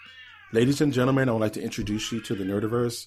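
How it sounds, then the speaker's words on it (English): A house cat meows loudly and drawn-out, with its cries mixed under a voice as he speaks continuously over it. "my roomie's cat, who meows violently into the cosmos"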